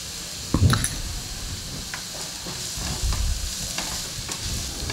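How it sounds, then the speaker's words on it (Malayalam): Sliced onions with a pinch of salt sauté in a pan for chana masala, a close steady sizzle marked by a sharp spatula clatter near the start and further scraping stirs, with nobody speaking. "സവാള ഇട്ട് നന്നായിട്ടൊന്ന് വഴറ്റിയെടുക്കണം"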